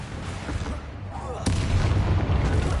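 The Confringo fire-blast spell goes off in Hogwarts Legacy. A dense rumbling battle backdrop gives way midway to a sudden loud burst, and the heavy roar stays high afterward.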